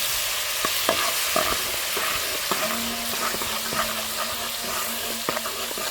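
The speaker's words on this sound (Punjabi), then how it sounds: "ਲਸਣ ਨੂੰ ਪਹਿਲਾਂ ਚੰਗੀ ਤਰ੍ਹਾਂ ਭੁੰਨ ਲਾਂਗੇ" Garlic sizzles steadily in a hot pan for a ginger-garlic curry, with a continuous frying hiss and intermittent scraping stirs and clicks of a spoon against the pan, close up and with no talking.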